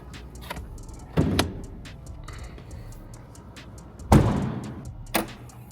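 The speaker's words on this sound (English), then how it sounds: "I'm gonna pop the hood real quick" Hood of a 2024 S650 Mustang being opened, with a couple of solid latch clunks and thumps among soft ticking and rustling, close and fairly quiet.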